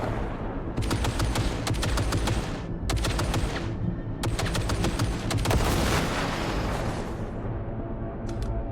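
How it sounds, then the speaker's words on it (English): Automated turrets firing in Cyberpunk 2077: dense, loud bursts of rapid gunfire repeating in several volleys across the scene, with brief gaps between bursts and no talk. "Oh, it's shooting the other turrets."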